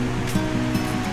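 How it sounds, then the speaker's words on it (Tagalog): Calm ocean waves wash onto the shore at Baler on a quiet afternoon, giving a steady broadband rush of surf with soft rhythmic swells, heard alone with no voices. "Medyo kalmado lang yung alon ngayong hapon."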